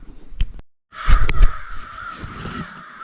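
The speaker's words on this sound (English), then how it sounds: "There's a lot of crows. We got a murder going on." Crows caw in woods, a single sharp call followed after a pause by a loud, overlapping burst of harsh cawing that trails off into scattered calls.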